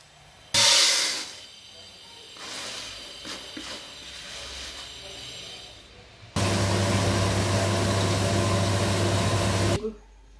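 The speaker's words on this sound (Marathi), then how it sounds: "तर आता हे मिक्स करून आपण गिरणीतनं दळून घेऊया।" An electric flour mill grinds a mix of urad and moong dal into flour for homemade papad, starting with a noisy hiss and then settling into a loud, steady mechanical drone that stops abruptly near the end.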